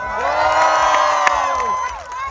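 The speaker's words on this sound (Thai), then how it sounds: "ขอเสียงเชียร์ให้น้องหน่อย" A crowd at a True Fight For Life fight event in Thailand cheers and whoops loudly and continuously, with the roar swelling and then tapering off near the end.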